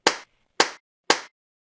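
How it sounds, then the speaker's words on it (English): Three sharp hand claps, evenly spaced about half a second apart, close and loud with silence between them. "And clap our hands."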